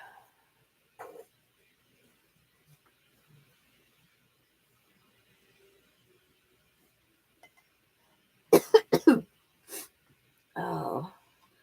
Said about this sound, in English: Oh, starting to sniffle and cough more.